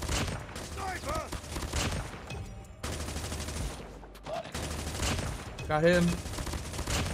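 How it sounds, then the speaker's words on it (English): Call of Duty Mobile gameplay fills with rapid bursts of burst-gun fire and other gunshots in a busy firefight, with brief voice chat over the shooting. "I start shooting it like a burst gun."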